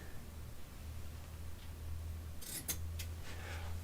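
Scissors cutting the edge off a paper wargaming map sheet make a short burst of crisp snips and paper rustle near the end, close but faint over a low steady background hum.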